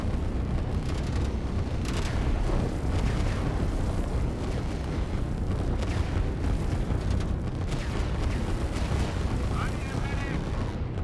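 Artillery shells landing in the strategy game Line War, a constant rumble of booms and blasts filling the whole stretch, heavy and dense, beneath a commentator talking.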